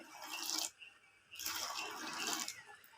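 Rice water is poured into a bucket holding a mix of ash and ground leaves, two splashing gushes of liquid with a short pause between them, close and fairly soft.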